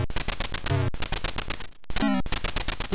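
Rapid bursts of synthesized gunfire from a ZX Spectrum arcade shooter, loud and continuous with dense chiptune-like rattles and a brief pause near the middle.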